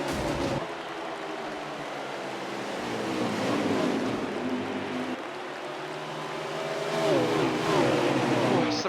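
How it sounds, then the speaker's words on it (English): Race cars lap the Bristol track in a continuous engine roar that swells and fades as they pass, with a rising whine near the end and no talking. "some good racing here at this racetrack"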